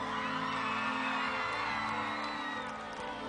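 A concert crowd at a live rap show at Woodstock 5 Stelle cheers and whoops loudly and continuously, a dense wash of shouting voices held throughout.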